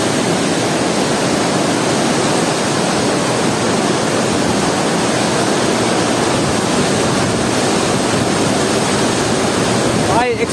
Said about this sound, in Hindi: पानी का शोर इतना जोर है कि हो सकता है मेरा आवाज भी आप लोगों को सुनाई नहीं दे रहा होगा